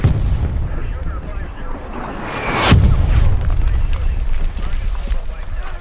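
Artillery fire in the WWII shooter Hell Let Loose: a heavy, booming impact lands midway through a steady roar of battle noise, with a rumbling tail; a voice talks briefly over the din.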